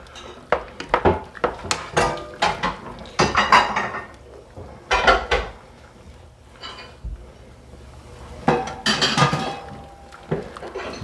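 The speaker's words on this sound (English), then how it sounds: "Now I'm going to start my macaroni noodles and break those up." Dry macaroni noodles are broken up and dropped into a metal pot, giving bursts of crisp snapping, clattering and rattling, close and fairly loud, with pauses between handfuls.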